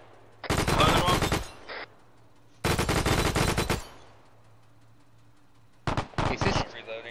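A .303 machine gun in a WW2 game fires three long rattling bursts, each packed with rapid close shots, separated by short pauses, with voices chattering briefly between them.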